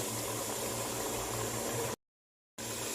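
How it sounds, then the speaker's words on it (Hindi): Kaleji (liver) gravy frying in a pan, a steady close sizzle and bubbling hiss that cuts out briefly to silence before resuming. "अभी हम इसको 10 से 15 मिनट भून लेते हैं मज़ीद"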